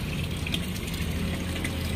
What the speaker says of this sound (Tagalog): nagsasalin ako ng tubig ngayon